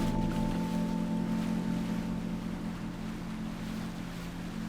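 A vehicle skimming across water in the Trailmakers video game gives a steady engine drone with a washing hiss of water, loud and constant, easing slightly toward the end.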